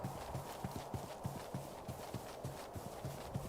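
Horse hooves clip-clop in the video game TerraFirmaCraft, a modded Minecraft, in a steady rhythmic walking pattern of clear, evenly spaced thuds with no talk.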